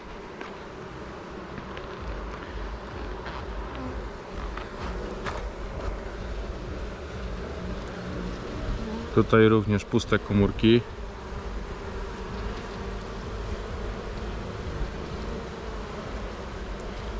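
Honeybees hum steadily on a frame lifted from a four-frame nucleus colony during a hive inspection. A person talks over the continuous drone, and a few louder, close buzzes pass near the microphone partway through.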